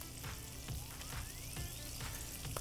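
Peppers sauteing in a hot pan give a steady, close sizzle with scattered crackles and pops running throughout, loud and continuous with no talking.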